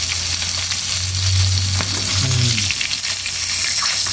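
Fish sizzling steadily in hot oil in a pan, a loud continuous crackling fry with a low hum beneath and a faint clink partway through.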